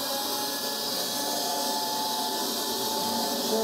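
A NaceCare 244NX cordless battery floor scrubber runs with a steady close-up motor whine and hum, constant in level with no pauses.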